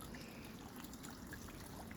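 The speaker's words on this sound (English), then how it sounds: "Little cheap waterfall." A small, cheap-looking waterfall at Pilcher Park trickles steadily, a faint, continuous watery patter with no voices over it.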